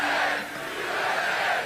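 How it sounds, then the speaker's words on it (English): A large outdoor crowd at a political rally roars and cheers continuously, a loud, dense wash of many voices filling the whole moment. "This is a big crowd."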